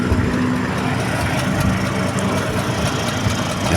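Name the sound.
Vespa Sprint scooter engine idling after warming up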